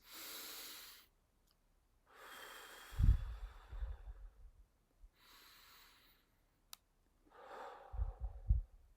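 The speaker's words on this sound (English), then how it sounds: "We're going to be breathing out longer than we breathed in." Slow, audible breaths cycle in and out, each exhale drawn out longer than the inhale, close and soft, separated by brief quiet pauses.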